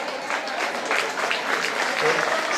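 An audience at a school Teachers' Day celebration applauds: a dense, steady wash of clapping fills the whole span, with voices and possible cheering mixed in.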